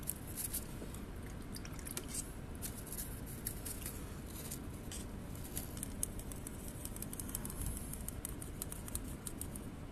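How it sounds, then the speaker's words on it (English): Water-thinned paint being stirred for painting a Tamiya Wespe Panzer crew model, giving steady soft scraping and wet squishing throughout, close and fairly quiet. "let's stir this up, mix it up with some water"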